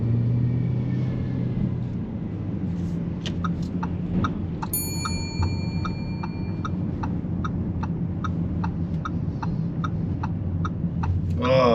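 A Lamborghini Urus idles and pulls away to turn right at traffic lights, a low steady engine rumble under a regular ticking indicator that clicks on through the turn, with a brief chime partway and no talking.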